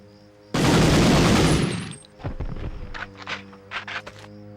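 A Medal of Honor machine gun fires in one loud, sustained burst of about a second and a half. Scattered softer impacts and footstep-like thuds follow over a faint steady background hum.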